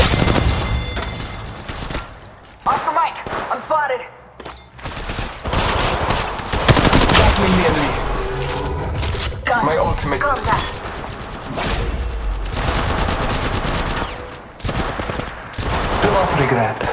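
Heavy automatic gunfire in the mobile shooter Apex Legends Mobile, dense and nearly continuous volleys with booms and brief gaps, loud and close, with in-game voice callouts mixed in.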